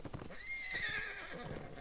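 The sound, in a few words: Radagast's horse clip-clopping and whinnying, from the video game LOTRO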